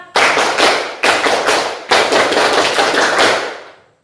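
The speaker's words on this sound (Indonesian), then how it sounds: "Lalu kita tepuk semangat lagi." A standing group of students in a classroom gives the rhythmic tepuk semangat cheer, dense loud clapping in three bursts with brief pauses between them and no talking.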